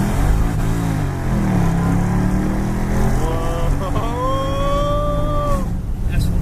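A 2003 Mercedes-AMG SL55 with a 600-hp V8 accelerating hard from inside the cabin: a loud, steady engine roar climbs in pitch, shifts once, and keeps rising without pause.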